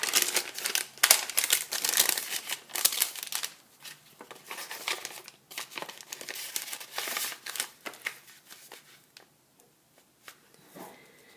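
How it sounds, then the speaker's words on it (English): Embossed, coffee-stained vintage paper crinkles and rustles up close in dense, continuous bursts, then thins to sparser crackles toward the end. "This one I embossed and coffee stained, and as you can see it has that nice crinkly feel to it."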